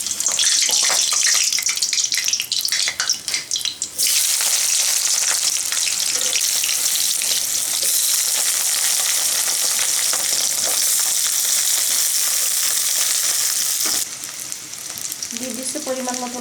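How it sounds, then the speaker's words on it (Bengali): Cut eggplant frying in hot mustard oil in a kadai, a loud continuous sizzle with stirring scrapes, briefly dropping near the end before rising again, with no voices. "এখন কেটে রাখা বেগুনগুলো আমি ভেজে নেব।"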